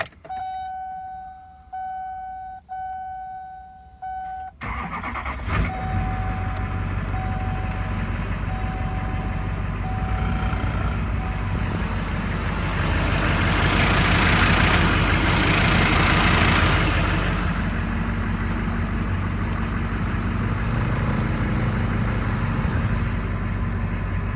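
A Duramax diesel truck engine with a reported problem starts after a few beeping chimes, then runs with a steady low rumble that swells slightly midway, close and loud throughout.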